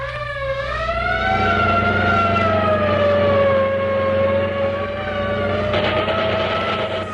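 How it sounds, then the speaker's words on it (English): A loud wailing siren rises and falls in long sweeping tones, steady and close, with a low rumble underneath, from the audio intro of the old-time radio show Gangbusters. "Blaring siren, the machine gun."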